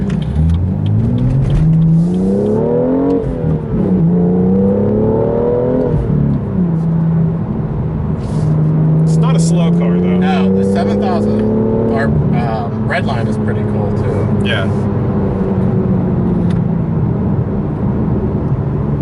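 A turbocharged 2017 BMW M2 engine revs and accelerates, pitch climbing and falling through gear changes, loud and close, with people talking over it.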